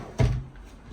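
A single wooden drawer in the kitchen of a 2025 Vibe 2600RK travel trailer shuts with one short, soft thump, followed by quiet room tone.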